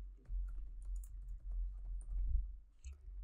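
Steady, fairly quiet clicking of typing on a computer keyboard, a continuous patter of keystrokes over low background hum with no talking.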